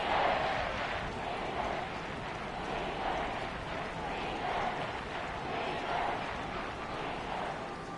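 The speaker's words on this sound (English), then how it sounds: "Crowd getting in it a bit already." Stadium crowd at a football game, a broad steady roar of many voices with gentle swells, sustained throughout at moderate distance.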